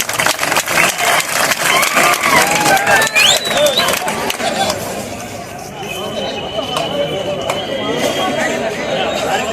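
Loud applause from the crowd at a farmers' festival award ceremony for Kaara Hunnime in Hosapete, a dense roar of clapping that eases after a few seconds into crowd murmur over a low engine hum.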